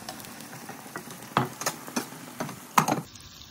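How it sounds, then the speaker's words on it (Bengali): Lobster pieces are stirred with spices in a pan, a faint sizzle under a series of irregular scraping and clattering strokes of a spoon against the pan, close and fairly quiet. "লবস্টার যেটা কেটে রেখেছিলাম এখন পুরোটা দিয়ে দিয়েছি, দিয়ে কিছুক্ষণ নাড়াচাড়া দিয়ে"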